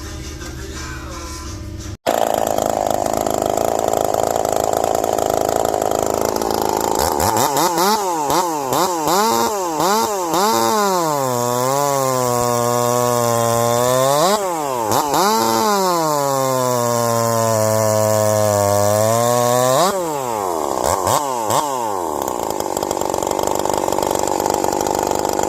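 A Husqvarna 346 two-stroke chainsaw, freshly rebuilt with a new cylinder, starts abruptly and runs loud and close, rising and falling repeatedly between idle and high revs in long sweeping bursts, with no talk over it.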